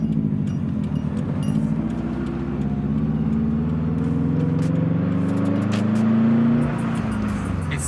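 A Subaru WRX STi drones steadily along the road, recorded from inside with a rising and falling mid-pitched engine note as it accelerates, plus tyre and road rumble beneath and no voices.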